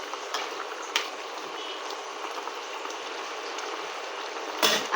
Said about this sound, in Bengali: কত সুন্দরভাবে ফুটছে।